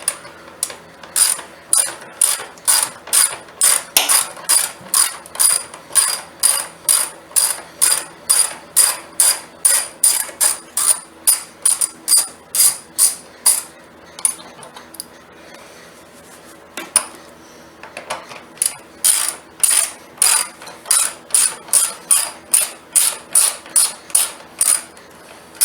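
Rapid bursts of ratchet clicking come from a socket wrench backing out upper screws on a Honda CB500X motorcycle, in even rhythmic strokes with one short pause midway, close and loud with no talking.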